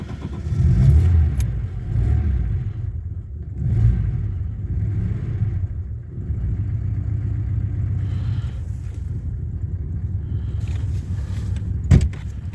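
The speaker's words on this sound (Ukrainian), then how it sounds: "Мотор працює гарно" A car engine idles steadily with a low, even rumble throughout, rising slightly at moments, with a brief click near the end.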